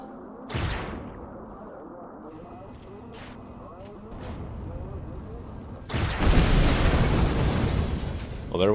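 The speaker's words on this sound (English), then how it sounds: "Well, there went a turret. There went his core. Oh, wow. Yeah, he exploded really nicely" A turret blows up in Empyrion Reforged Eden during a bandit base fight: a sharp pop, then scattered impacts under someone talking, building to a loud, sustained roaring explosion near the end.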